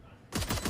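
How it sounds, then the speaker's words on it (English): Rapid automatic gunfire bursts in a competitive tactical shooter match after the spike is planted, a sharp sudden onset of loud rattling shots following a quiet moment. "Gunfire starts to play."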